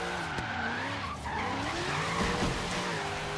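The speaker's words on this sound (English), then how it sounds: "Friggin' third gear and we're drifting here." A Chevy Corvette Z06 drag build in Forza Horizon 3 drifts in third gear, its tires squealing in a sustained, loud skid over a continuous engine roar.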